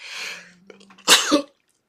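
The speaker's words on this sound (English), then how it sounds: "I'm going to sneeze" A single close sneeze, preceded by a sharp inhale and a short pause, bursting out loudly before falling silent.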